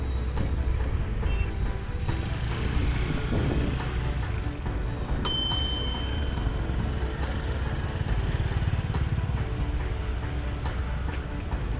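Steady engine drone of motorbikes and traffic in Ho Chi Minh City, Vietnam, throughout, a continuous loud rumble with passing vehicles and a brief high whine midway.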